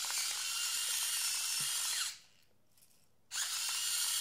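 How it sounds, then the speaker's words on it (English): A Cuisinart SG-3 rechargeable electric salt, pepper and spice mill grinds with a steady, loud motorized whir for about two seconds, stops briefly, then starts up again near the mic with no talking. "It's the Cuisinart Salt, Pepper, and Spice Grinder."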